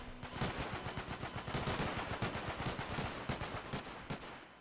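Rapid, steady gunfire from a Garry's Mod PoliceRP bank robbery, a continuous string of close shots in quick rhythm with no talk over it.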